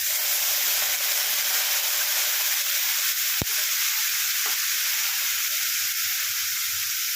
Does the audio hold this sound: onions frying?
yes